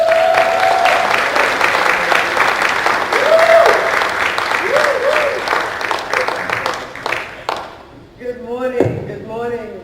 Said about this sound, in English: Let's welcome with a hearty round of applause, DGE Soraya.